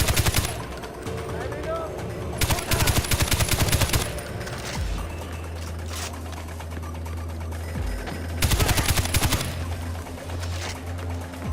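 Bursts of automatic gunfire from a weapon in the shooter game Far Cry 4, loud rapid volleys in two main stretches separated by quieter ambient game sound, with someone talking at times between the shots.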